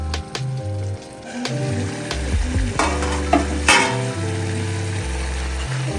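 Spice masala frying in oil while being stirred, a steady sizzle with scraping stir strokes and occasional bubbling pops, close and moderately loud with no talking.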